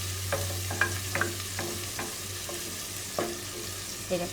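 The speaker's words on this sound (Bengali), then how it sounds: "এখন আমার পেঁয়াজ ভাজা হয়ে গেছে" Onions fry in a pan for ramen while a utensil stirs them, giving steady close sizzle broken by repeated scraping knocks, with no voices.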